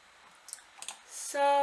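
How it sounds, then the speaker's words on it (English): A computer mouse gives a few quiet, isolated clicks in a quiet room. A brief steady tone follows. "So then we click continue."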